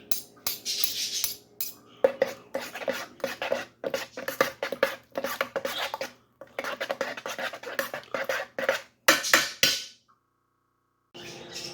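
Tomato paste being mixed into a lasagna mixture in a bowl with a utensil, close repeated scraping and clinking strokes in bursts, separated by brief pauses.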